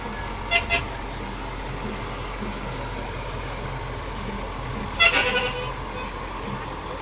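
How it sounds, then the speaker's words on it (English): A large transport truck in a Christmas parade sounds its horn in two short bursts, one early and a stronger one later, over a steady outdoor crowd and traffic rumble. "What a honk there."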